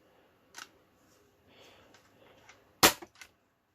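A Dart Zone Max Outlaw foam dart blaster fires a single shot, a sharp, loud, close crack, preceded by a few faint mechanical clicks and handling noises.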